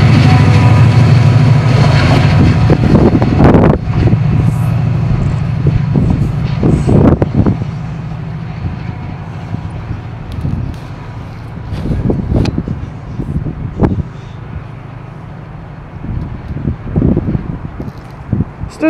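A train rolls past outdoors, a loud low rumbling roar with wheel and wind noise that is strongest at first and gradually fades, with a few sharp clanks and knocks over the continuing rumble.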